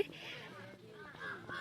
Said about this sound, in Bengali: এই যে পাখিগুলো ডাকছে,